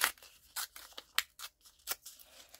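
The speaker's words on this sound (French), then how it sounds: "Je vais découper comme ça." Scissors snip through paper for a collage card, a series of quick, crisp close-up cuts in an uneven rhythm, about ten short bursts separated by quiet gaps.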